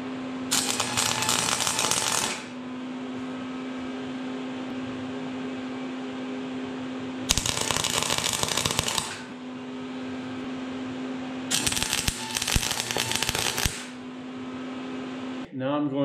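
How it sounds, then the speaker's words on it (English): An electric welder tack-welding a driveshaft in a home garage, three separate crackling bursts of a few seconds each over a steady machine hum, with no one talking. "I'll just put a little tack weld in one, two, three places"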